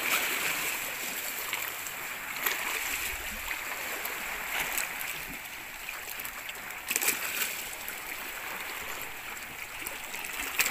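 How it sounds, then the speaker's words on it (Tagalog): Rushing river rapids on a trip in Anda, Bohol, a steady broadband wash of flowing water with occasional splashes, fairly close and continuous throughout, with no talking. "Rapids."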